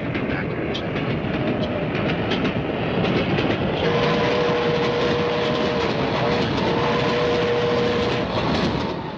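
A train rumbles loud and close with a continuous rolling roar and faint rhythmic clatter, and a sustained whistle-like tone sounds over it in the second half.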